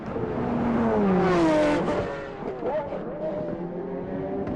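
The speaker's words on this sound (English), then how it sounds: "Beautiful sounding car" A BMW race car at the 1999 Le Mans 24 Hours passes with a loud, rising then falling engine note, heard alongside race commentary.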